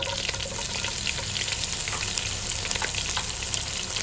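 Finely chopped ginger fries in butter and oil in a pan for a creamy pasta, making a dense, steady sizzle with crackling pops and faint stirring, close and uninterrupted.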